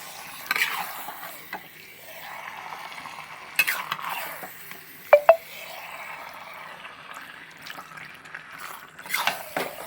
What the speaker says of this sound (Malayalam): നന്നായിട്ട് അങ്ങോട്ട് ഇളക്കി